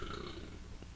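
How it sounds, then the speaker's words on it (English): A single low, rough burp after drinking beer with coffee, brief and fairly quiet, heard close up. "That was that beer burp with the coffee"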